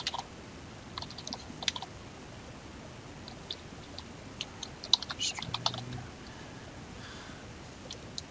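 Typing on a computer keyboard, with short bursts of soft clicking keystrokes spread across the stretch and a quicker flurry in the middle, quiet and close with no speech.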